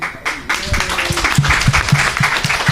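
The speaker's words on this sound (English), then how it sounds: "Well-deserved round of applause." An audience at a conference Q&A session gives a short burst of applause, a brief wash of many hands clapping with a few distinct, evenly spaced claps standing out near the end.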